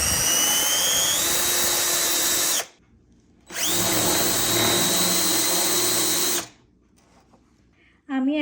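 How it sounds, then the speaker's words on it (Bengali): A power drill bores into the center of a piece of wood in two long, loud, steady whining bursts separated by short pauses, followed by a brief chirp at the end. "আমি এখন এটা সেন্টারে ড্রিল করে নিচ্ছি।"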